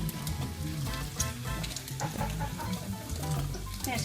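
Bacon frying in a pan gives a dense, steady crackling sizzle with scattered pops, close and continuous, with no voices over it.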